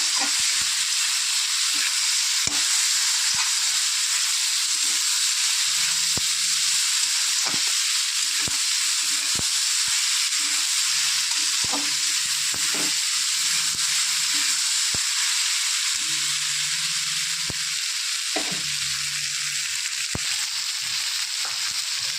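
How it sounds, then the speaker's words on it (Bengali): Fish frying with turmeric in a pan, a loud steady sizzle of hot oil throughout, with occasional ladle taps and scrapes as it is stirred. "আর দিয়ে দেবো পরিমাণ মতো হলুদ। ভালো করে নেড়ে চেড়ে একটু সাথে নিয়ে নেবো"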